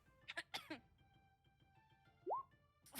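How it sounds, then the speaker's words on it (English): A couple of short, quiet coughs early on, followed by a faint rising tone and near silence. "I was coughing."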